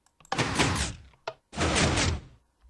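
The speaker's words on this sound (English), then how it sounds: "let's lock up this door here" A door being locked in the block-building game Adventure Craft makes two loud, noisy door sounds, each about half a second long, with a short knock between them and no talk.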